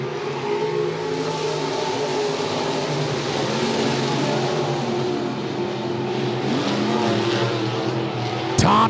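Midwest Modified race cars at speed on the Monett Motor Speedway oval, a steady loud roar of several engines droning continuously with a shifting pitch as cars pass, ending in a sharp burst.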